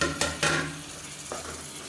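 Ingredients sautéed in oil in a pan for a lunch box dish, with short close stirring scrapes over a low frying sizzle, and no voices.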